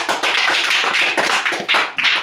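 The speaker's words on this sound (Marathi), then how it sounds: "अनुजासाठी जोरदार टाळ्या वाजवा" Children clapping together for a classmate during a concentration game, a loud, dense burst of hand claps with slight surges and dips in rhythm, close and filling the whole stretch with no voices.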